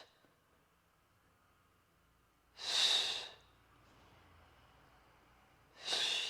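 Two loud, breathy exhales burst out during a full-body workout, one in the middle and one at the end, separated by quiet stretches with only faint room noise.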